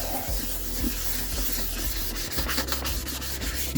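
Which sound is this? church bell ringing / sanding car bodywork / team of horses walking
sanding car bodywork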